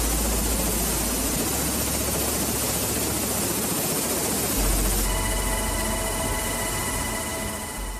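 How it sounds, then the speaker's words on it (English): A Black Hawk military helicopter roars loudly and steadily, its rotor thump and engine drone filling the air without a break, close by and alone. "The Blackhawk helicopter,"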